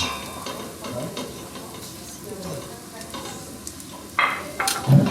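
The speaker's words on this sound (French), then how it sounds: "les oignons, ils commencent à bien compoter" Onions cook down in a pan for a homemade hachis parmentier, a soft steady sizzle under occasional scraping stirs, followed by a few louder clanks of a utensil against the pan near the end.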